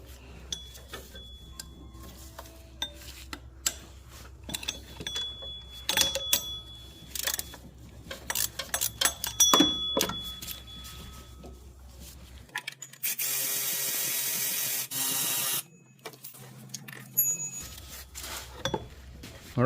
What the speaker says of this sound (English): and then we'll put a ratchet in.